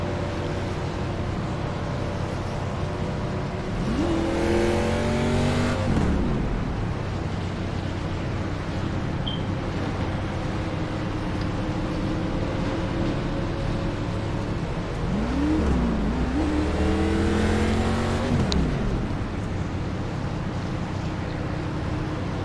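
A wrecked stock race car's engine drones steadily in a racing video game, with two rising-and-falling engine sweeps passing over a constant low rumble.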